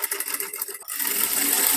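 A sewing machine stitches along a blouse neckline, its motor whirring steadily and close, briefly pausing near the middle before running again with a brighter, continuous hum.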